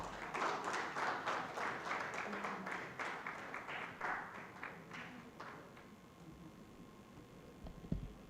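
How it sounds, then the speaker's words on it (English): Audience at an event at Novotel Goa applauding, a dense round of clapping that tapers off and fades out over several seconds. "Can we have a round of applause?"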